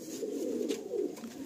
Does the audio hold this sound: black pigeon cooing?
yes